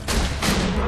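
Two heavy, booming blasts from a Hyperion shotgun in Borderlands 2, close and loud, fired in quick succession less than half a second apart.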